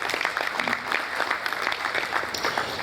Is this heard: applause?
yes